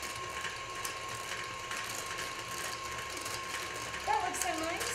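A hand-cranked flour sifter turns through flour, baking soda and baking powder for sugar cookie dough, giving a steady close mechanical rasping and clicking, with a voice briefly heard near the end.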